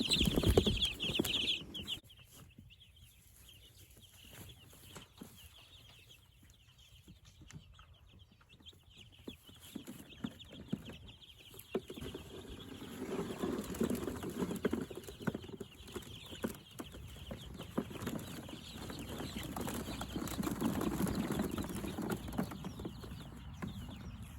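Young Rainbow Ranger chickens cluck and peep near a pen outdoors, a brief sharper call at the start followed by soft, scattered fowl sounds and faint rustling that grow busier later on.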